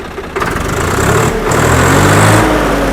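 A Swaraj 855 tractor engine cranks and catches after a brief pause, then settles into a loud, steady diesel chug close by.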